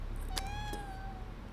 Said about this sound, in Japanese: 今、猫鳴かなかったか？